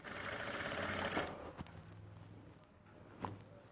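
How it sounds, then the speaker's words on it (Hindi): Sewing machine stitching a fabric seam with a half-inch margin: a steady, fast mechanical whir running loud for about a second, then stopping, followed by a few faint knocks and handling sounds. "बिल्कुल बराबर सिलाई लगानी है।"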